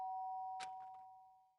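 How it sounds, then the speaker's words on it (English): Doorbell ringing in the video game Danganronpa, a single bright ding-dong chime over a steady electronic hum, fairly faint and fading out. "A sharp sound of a doorbell pierced my sleepy haze and pulled me back to the real world."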